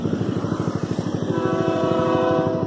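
A train rumbles past with rhythmic clattering wheels, then a long loud horn blast sounds over the rolling noise.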